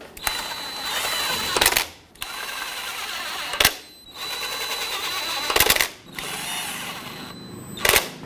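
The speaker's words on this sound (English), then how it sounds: "And with a 10mm socket, snug them all up." A 10mm socket on a motorized ratchet snugging valve cover bolts on a 1997-2006 Jeep Wrangler 2.4L, heard as four loud, close bursts of buzzing mechanical whir, each about two seconds long with brief pauses between.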